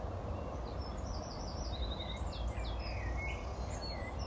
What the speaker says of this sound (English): there's some quite pleasant bird song around at the moment, if you can hear that